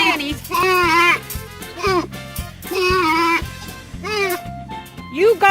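Farm goats bleating loudly and close in several wavering, quavering calls, one after another with short gaps, alongside soft knocking or clattering sounds.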